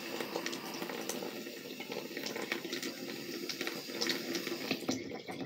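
A bathroom tap runs steadily onto a toothbrush, a continuous close splashing hiss of water that holds without pause, with no talking.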